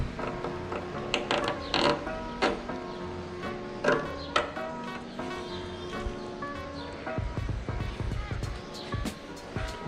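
Hand tools tightening bolts on a carbon racing windshield mount for a Royal Enfield Himalayan motorcycle, with repeated metallic ratcheting clicks and clanks near the mic and some talking over them.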